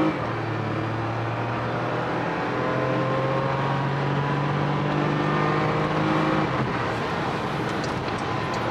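A Porsche with a PDK gearbox accelerates hard up an on-ramp, its engine droning steadily and rising in pitch through the gears, heard loud and continuous from inside the car.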